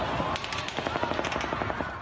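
Rapid bursts of automatic gunfire at the 2017 Las Vegas outdoor country music festival mass shooting, a dense string of sharp cracks fired in quick succession, loud and continuous with echoing tails.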